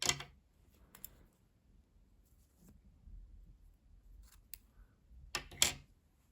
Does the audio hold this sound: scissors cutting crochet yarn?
yes